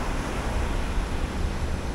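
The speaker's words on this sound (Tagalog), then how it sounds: "ang laki ng mga alon" Big ocean waves off the Ilocos Sur coast roll in as a steady, loud broadband roar mixed with wind buffeting the microphone, continuous for the whole stretch with no voices.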